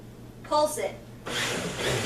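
A blender pulses a mixture of goat or cow cream and cold water being churned into butter, giving a brief whirring burst and then a steadier, noisy grinding roar close by.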